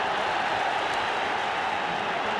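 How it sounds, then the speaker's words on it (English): Dense, steady roar from a football crowd packing the Hampden Park terracing at the 1988 Scottish Cup Final between Celtic and Dundee United, a continuous wash of massed voices with no break. "You can still hear the constant barrage of noise from the terracing"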